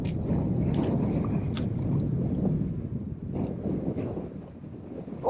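Wind blows hard, around 20 knots, over a boat in a sheltered fishing spot, with gusty microphone buffeting and low rushing noise interrupted by a few brief knocks and clatters, no talking.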